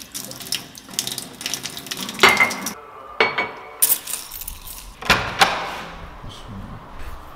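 Dishes washed by hand at a kitchen sink: running tap water with clattering plates and cutlery, sharp knocks and clinks coming in bursts over the steady splash, close by and without any voices.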